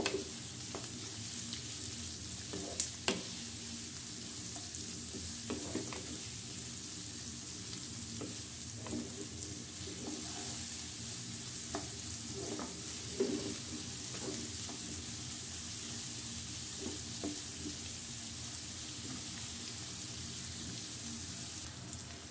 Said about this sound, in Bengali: তারপরে খুব ভালো করে পেঁয়াজগুলো ভেজে নেব।